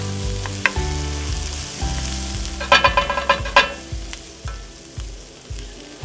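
Onions sauté in a pan with a steady sizzle, broken by a flurry of scraping and clattering stirs in the middle; someone speaks briefly near the end.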